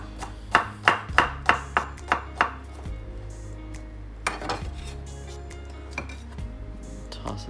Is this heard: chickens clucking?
no